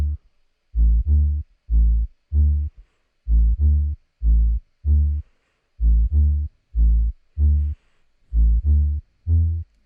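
A Moombahton 808 bass plays a simple two-key pattern for a Shatta remix, with deep, punchy sustained notes in a syncopated repeating rhythm, loud and dry with nothing else playing.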